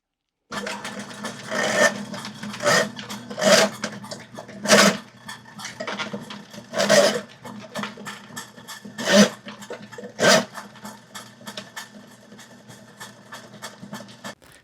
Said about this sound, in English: now I just want to start the spinning action